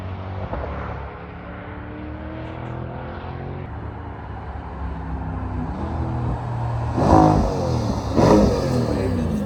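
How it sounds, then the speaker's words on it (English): A Corvette is driven fast around a race circuit by a professional driver, its engine holding a steady loud drone with rising revs and gear changes near the end, heard from inside the car without talk. "let the professional driver, Tab, take him around the circuit for a couple of laps"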